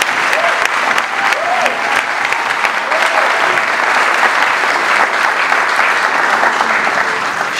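Audience applause at Queen Moremi The Musical on stage in Lagos: loud, dense, sustained clapping from a large crowd, with a few faint voices calling out underneath.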